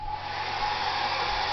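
A handheld hair dryer running at close range, a loud, steady whooshing roar with a constant motor whine, unbroken and unaccompanied by speech.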